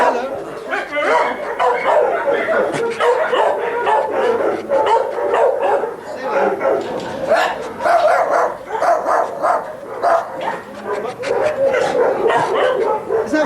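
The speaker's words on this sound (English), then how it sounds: "Everybody's having a bark." Several dogs in boarding kennels bark, yip and whimper close by in repeated overlapping bursts, with people talking among the barks.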